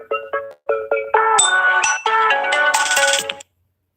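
A phone ringtone plays a bright, repeating electronic melody, loud and close, building in intensity over about three and a half seconds before cutting off abruptly.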